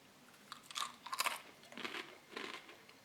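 Dry, crispy plain wheat biscuits from a 2016 Russian Emercom ration are bitten and chewed close up, giving four or five sharp, quiet crunches spread over three seconds.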